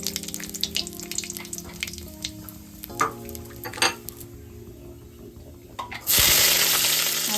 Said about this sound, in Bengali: আর এদিকে এই যে রসুন, কাঁচা লঙ্কা, কালো জিরে দিয়ে দিচ্ছে ফোড়নে